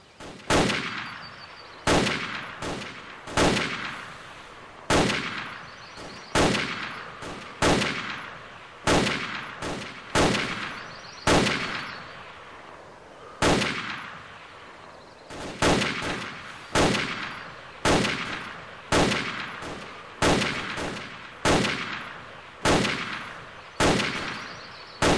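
Single rifle shots ring out one at a time on a basic rifle marksmanship range in the video game America's Army, about twenty loud sharp cracks at an uneven, deliberate pace, each trailing off in a brief echo.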